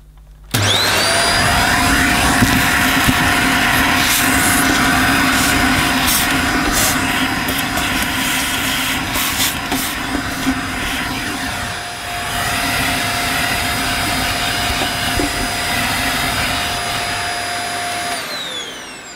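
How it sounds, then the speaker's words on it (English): A vacuum cleaner runs steadily, cleaning debris and a disintegrated filter out of the inside of a 1986 British-made Hoover Spirit, a loud, constant high whine and rushing airflow that starts abruptly and holds for the whole stretch. "I'm just going to vac up all this mess from inside"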